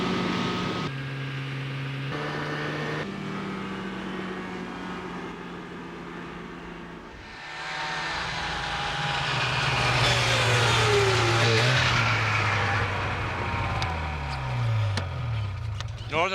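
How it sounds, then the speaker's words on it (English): A two-stroke engine of the kind used in dirt bikes, microlights and snowmobiles idles with a steady buzz, then rises in pitch and revs harder midway before falling back, loud and close throughout. "The two-stroke engine found its way into dirt bikes, microlights, and frisky little beggars like the snowmobile."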